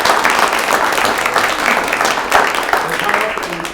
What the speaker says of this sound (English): let's have another round of applause for Mitsuhiro Yamazaki.